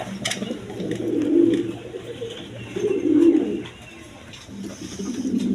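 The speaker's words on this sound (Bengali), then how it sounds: "কবুতরগুলো দেখেন" Low, soft pigeon coos repeat in slow swells, several rounds close by over a faint steady hum, with no talking.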